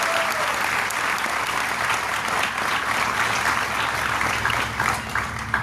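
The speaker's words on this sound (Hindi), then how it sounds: "एक जोरदार ताली उसके लिए।" Audience applause at an Amway business event in Mumbai, a steady sustained wash of many hands clapping, loud and unbroken throughout with no talk over it.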